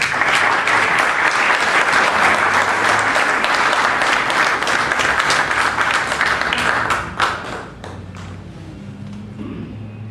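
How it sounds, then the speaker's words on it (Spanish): An audience at an evening ceremony gives loud, sustained applause as a speaker is welcomed. The clapping stays dense and close for about seven seconds, then thins quickly and fades to a quieter room. "Recibamos con un muy fuerte aplauso, por favor."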